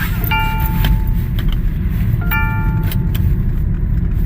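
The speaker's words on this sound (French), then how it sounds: "Donc je mets la ceinture." A seat belt is fastened inside an MG ZS EV car: two short chime tones ring out over a steady interior hum, with a few sharp clicks from the buckle and latch.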